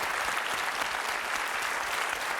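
A television game show studio audience applauds the camera operators, a steady, even roar of many clapping hands with no pauses, heard alone and at moderate level.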